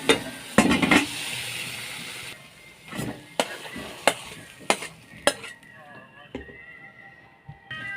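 A poppy seed dish is stir-fried dry over high heat: a spatula scrapes and knocks against the pan in bursts over a low sizzle, fading quieter toward the end while someone talks.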